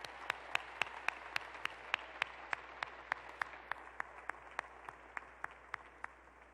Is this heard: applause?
yes